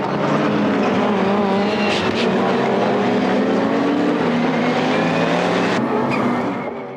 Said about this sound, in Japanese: 絶妙なスタートを決めたのはトヨタスープラ。